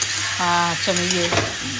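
Bottle gourd with lentil dumplings fries and is stirred in a pan, with short squeaky scraping tones over a steady close sizzle.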